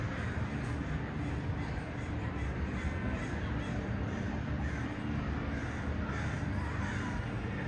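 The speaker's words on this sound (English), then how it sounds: "If you listen carefully, you can hear the crows acting up." Crows caw repeatedly in the distance at Disneyland over a steady, rumbling background noise.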